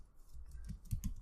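Fingers tap out a short burst of keystrokes on a computer keyboard, quick soft clicks picking up speed near the end, close and quiet with no talking.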